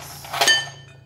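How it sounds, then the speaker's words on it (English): Several ice cubes clink and clatter into a glass for a lychee soda, a short cluster of bright knocks peaking mid-clip and fading, fairly close, with no talk. "So let's just say I'll put like a few cubes in"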